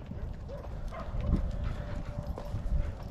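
Horses at a family ranch clop their hooves in an irregular, close rhythm of soft thuds over a steady low rumble, with no talk.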